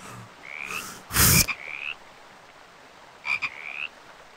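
A frog in a VRChat world gives several short buzzy croaks, interrupted early by a loud brief burst of noise, then a final pair of croaks alone against a quiet backdrop.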